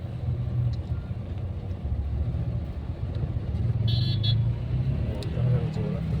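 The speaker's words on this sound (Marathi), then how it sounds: "इथे आपल्याला हे ट्रॅफिक मिळालेलं आहे" Heavy road traffic crawls along the Mumbai–Goa highway near Kolad, a continuous low rumble of engines with a couple of short horn toots partway through and a voice heard over it.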